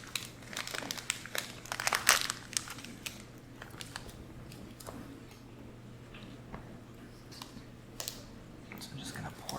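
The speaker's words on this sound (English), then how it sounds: "as soon as I start crinkling a wrapper, she makes sound because she thinks it's food for her" A plastic wrapper being crinkled close up during yogurt parfait prep, with bursts of crackling near the start that fade into quieter rustles and soft taps over a steady low hum.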